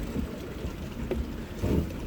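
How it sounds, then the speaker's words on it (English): An off-road vehicle churns through deep water on the Rubicon Trail, a rushing, sloshing wash with wind buffeting the microphone and a steady low rumble throughout. "It's like we're driving through a lake on this section."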